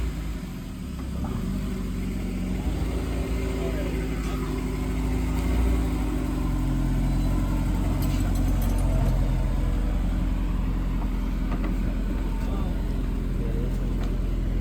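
A lowered Honda S2000 on coilovers is driven around nearby, its engine giving a steady, low mid-range rumble that swells slightly as it moves, with people talking over it.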